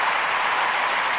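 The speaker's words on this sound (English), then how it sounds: "Can we give them a round of applause?" A round of applause for the Ujima babies at a community gathering: steady, dense clapping from an audience, fairly close and even throughout, with no voices over it.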